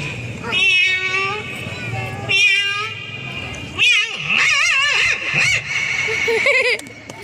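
A voice imitating a cat, giving a series of drawn-out, wavering meows and squeals in separate bursts, loud and close.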